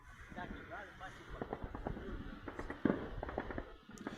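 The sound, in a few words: distant explosion in war footage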